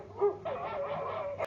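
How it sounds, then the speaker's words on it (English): A dog barks and yips over AirPods earbuds during a short call-quality test, with a few quick close barks and whimpery notes over a faint background hum. "And this is the barking dog sound test on the AirPods."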